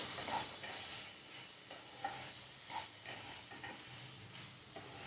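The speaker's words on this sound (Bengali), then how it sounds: "ভালো করে মশলাটা ভাজবো" Spices fry in a pan and are stirred while making a vegetarian banana-stem thor ghonto. A continuous close sizzle carries rhythmic scraping stirs, with no voices.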